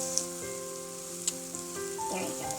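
Chicken popcorn fries in a pan with a steady, close sizzle, a bright crackling hiss that runs throughout, with a few sharper pops and some faint tonal sounds in the background.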